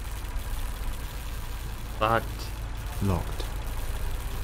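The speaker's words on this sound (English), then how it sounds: "Judging by the engine noise and the smell, there are diesel generators in this shed." Diesel generators run inside a shed in the video game Lost Horizon, a steady low engine rumble and hum continuing under a person speaking briefly.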